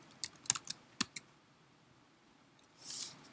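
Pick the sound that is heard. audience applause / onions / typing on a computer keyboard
typing on a computer keyboard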